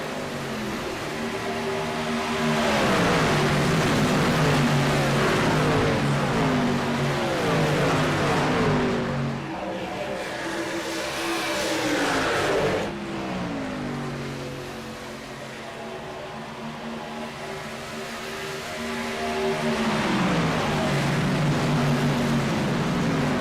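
Race car engines roar and rev continuously during a sim racing contest at Atlanta, with several cars close together and pitch rising and falling as they accelerate and shift, loud throughout.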